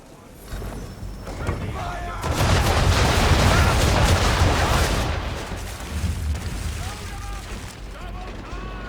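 A ship's cannons fire a broadside in the video game Assassin's Creed III: a loud, dense roar of overlapping blasts rolls on for a few seconds, then fades back to ship noise with voices speaking before and after.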